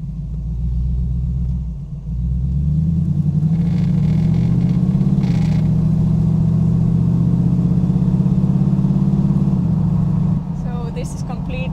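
Engine of a Bricklin SV-1 sports car on the move, a loud, close, droning rumble that dips briefly during a gear change and then climbs steadily in pitch as it accelerates, easing off near the end.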